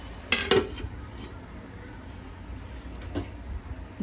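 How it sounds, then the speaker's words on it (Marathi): A metal lid lands on a cooking pot of prawn pulao with a couple of quick clanks, then a soft rattle and faint kitchen background. "आता आपण गॅस मंद करायचा आहे आणि हे झाकण ठेवायचं"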